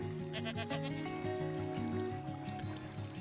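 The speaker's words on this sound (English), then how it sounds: "this goat is jumping. Jumpy goats." A Minecraft goat bleating in a repeated, wavering call over a steady low game backdrop, moderately loud and close, with no talking.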